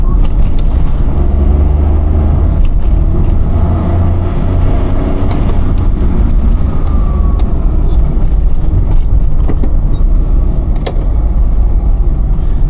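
A Maruti 800 accelerates hard up a winding mountain road near Shimla at night, its small engine droning loud and steady throughout without pause, heard from inside the car with no talking.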